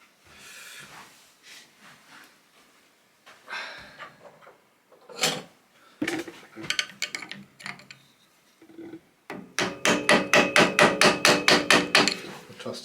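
Hammer tapping on a part of a Moulton Deluxe bicycle, first scattered knocks and clunks, then a rapid steady series of sharp metallic taps close by near the end.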